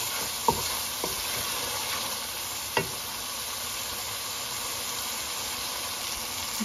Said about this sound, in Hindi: चिकन को भी अच्छी तरह भून लेंगे।